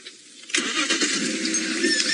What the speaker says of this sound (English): I need to move the car because I'm facing the wrong direction